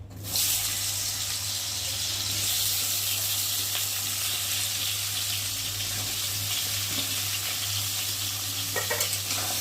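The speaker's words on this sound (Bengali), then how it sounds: "এখন আমি কলাগুলোকে দিয়ে প্রথমে ভালো করে ভেজে নেব" Raw green banana pieces fry in hot oil with a loud, close, unbroken sizzle and hiss, with a low steady hum underneath and a little stirring clatter near the end.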